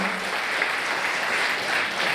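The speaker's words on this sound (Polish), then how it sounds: "Wielkie brawa dla taty." Applause from the audience at the It's Wedding Time wedding gala: continuous, full-bodied clapping from a crowd, even and sustained across the short stretch, with no voices on top.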